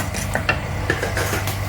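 Fenugreek seeds crackling in hot oil in a pan for a Kerala fish curry, with a soft low sizzle and several sharp pops scattered irregularly over it, close by and with no voices.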